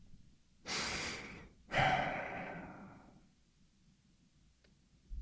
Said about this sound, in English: Now just breathe normally now.